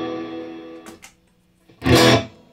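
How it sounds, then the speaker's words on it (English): An electric guitar played through a Spark pedal with slight overdrive grit rings out as a sustained chord, falls quiet, then a loud distorted strum bursts in close, with no talk. "right now, the only thing you're hearing is this spark pedal, and that gives it just a little bit of grit"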